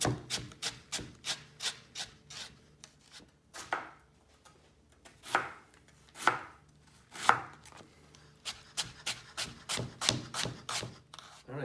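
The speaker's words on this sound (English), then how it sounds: "So we're just gonna cut really thin batons of our carrots and almost make like a coleslaw cut." A knife chopping carrots into thin batons on a cutting board: quick, close, rhythmic taps in bursts, with a few slower sliding strokes between runs and no talking.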